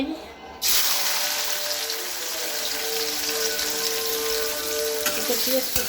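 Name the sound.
chopped onions frying in oil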